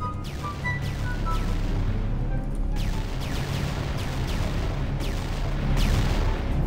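Explosions in the game Toilet Tower Defense, a continuous loud barrage of booms and rapid gunfire-like blasts with repeated sharp bursts throughout, dense and close.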